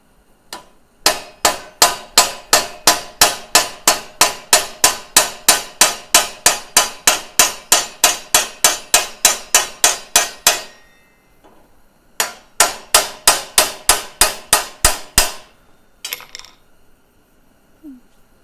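A hammer strikes a mild steel rivet in a long run of evenly spaced, loud, ringing metallic blows, then pauses before a shorter burst and a few final taps.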